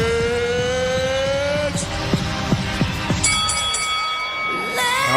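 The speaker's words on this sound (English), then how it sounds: "they ring the bell" A bell rings out inside a packed NBA arena before a Charlotte Hornets versus Toronto Raptors game, giving a sustained, bright tone over steady crowd noise and amplified sound.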